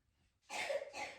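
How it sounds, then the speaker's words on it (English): A boy with a cold gives a single short, close cough in two quick bursts after a moment of quiet. "So if you hear him in the background coughing"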